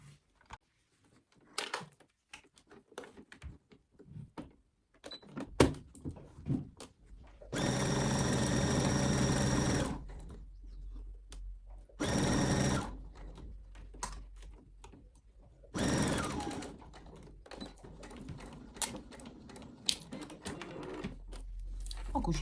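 A sewing machine stitches fabric pieces for a 3D Christmas house ornament in short bursts of fast mechanical whirring, with a longer run midway. Quiet clicks and fabric handling fill the gaps between bursts.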